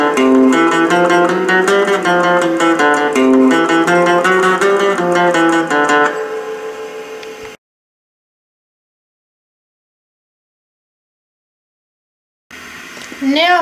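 Guitar plays the repeated riff of a song in a fast, bright picked pattern for about six seconds, then rings out and fades into silence before a brief return near the end.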